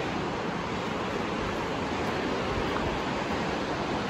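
Continuous broadband rush of the South Yuba River flowing, steady and fairly close, like whitewater or surf with a touch of wind, no voices.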